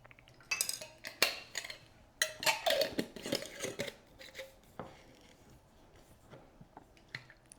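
Wet squishing and sharp clinks as a chopstick stirs pickling red onions and beets with Tellicherry peppercorns inside a container, in irregular bursts of scraping and tapping that fade to soft occasional taps.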